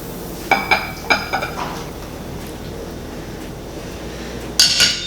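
Creme brulee custard being gently stirred in a bowl, giving a few brief clinks of utensil against the dish early on and another burst near the end, with soft, quiet mixing sounds in between.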